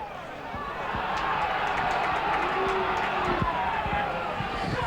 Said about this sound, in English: Crowd not too happy about that tackle.